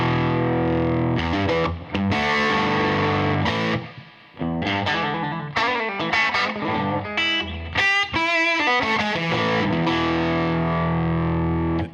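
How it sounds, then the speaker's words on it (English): An electric guitar plays through a cranked tweed-style amp with a single 12-inch speaker, a dense, loud, continuous overdriven tone with chords and sustained notes, alone without talk. "It does that tweed amp thing when you turn it up and it sounds like it's about to explode."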